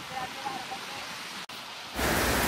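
Rain falling at a beachfront property, a steady broadband hiss that continues at moderate level, then suddenly swells louder and denser near the end.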